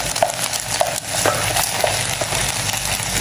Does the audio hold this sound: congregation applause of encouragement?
no